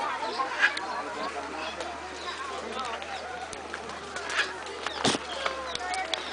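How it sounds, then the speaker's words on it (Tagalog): Soft pigeon coos and fluttering sounds outdoors amid steady ambient noise, with scattered chirps and light background activity. "parang nandito tayo sa Paris. Ang daming kalapati."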